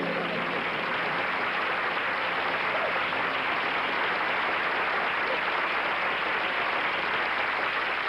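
Dense, continuous audience applause at a stage magic show, steady and loud for about eight seconds with no pauses.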